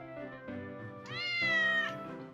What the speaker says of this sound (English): The cat meowed as if in assent.